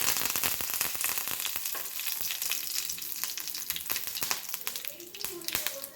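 Curry leaves dropped into hot oil with already-popped mustard seeds, a loud continuous crackling sizzle with sharp spitting pops throughout, close up in a home kitchen while potato curry is being made.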